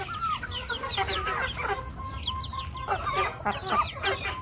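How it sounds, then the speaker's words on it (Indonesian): A rooster clucks and calls repeatedly in short, choppy phrases, close and clear over a steady low background hum, with no talk. "Nih jago nih, ini gagah."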